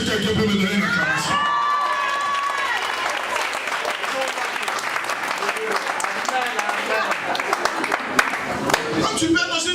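A church congregation breaks into loud applause and cheering, dense clapping with shouts and whoops filling the space, a voice briefly rising over the crowd near the start.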